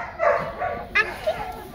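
A puppy gives several short, high yips and whimpers at close range over a faint background murmur.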